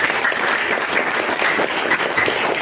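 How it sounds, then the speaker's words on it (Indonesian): Steady applause from an indoor audience at a business presentation for the company PT BES, dense clapping sustained at even loudness throughout with no speech over it. "Berikan aplaus buat PT BES."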